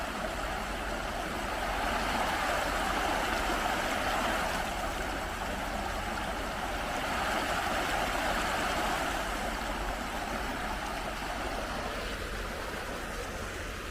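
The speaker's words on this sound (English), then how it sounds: "So right now you can hear the stream, right?" A flowing stream captured on a DJI Pocket 2 camera, a steady broadband rush of water that swells slightly and stays continuous throughout, with no talking over it.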